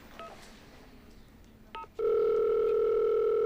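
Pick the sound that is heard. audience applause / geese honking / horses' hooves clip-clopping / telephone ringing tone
telephone ringing tone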